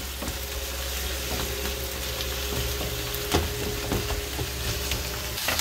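Bengali saag greens frying in a pan with plenty of chili, a steady close sizzle with scattered stirring clicks and scrapes, alone without speech.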